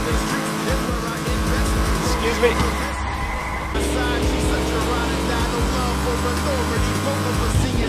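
Race car engine roars and tires squeal as it drives and skids in the Fast and Furious Showdown video game, continuous revving with a skid burst, under a man's brief speech.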